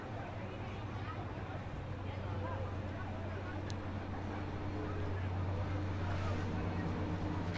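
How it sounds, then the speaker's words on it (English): A train passing on a rail line right beside a stadium during a boys' varsity soccer match, a steady low rumble holding through the whole stretch, far off and mixed with crowd murmur and wind noise. "You can hear the train now."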